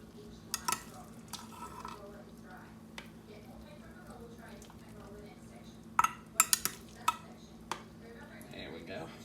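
Food is scooped from a dish onto biscuits in a bowl: a spoon scrapes, then a few sharp clinks of cutlery against dishware ring out in a quick cluster, over a low background hum.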